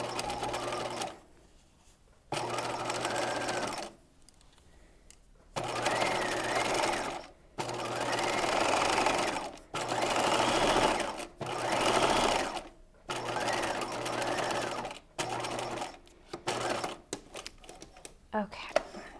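Sewing machine stitching a seam on a Breton-style top, running in repeated bursts of steady mechanical whirring separated by short pauses, close and fairly loud.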